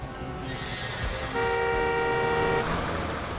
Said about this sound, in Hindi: विवेक देखना जरा कोई गाड़ी आ रही है क्या?